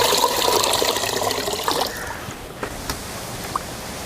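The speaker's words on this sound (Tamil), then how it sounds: "இப்போ கொஞ்சம் தண்ணி ஊற்றி ஒரு 10 நிமிஷம் ஊற வச்சிடலாம்." Water pours from a vessel over washed rice to soak it, a loud splashing gush that tapers into small trickles and drips.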